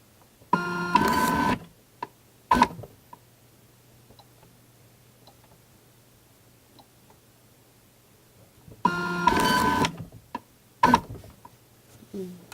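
A small cab EOS label printer whirs in two short bursts of feeding, each followed by a sharp click, separated by a long quiet stretch with a low steady hum.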